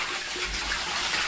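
Dyed fabric being dunked and rinsed in a basin of water during tie-dye, a steady close sloshing and splashing wash of water with no voices.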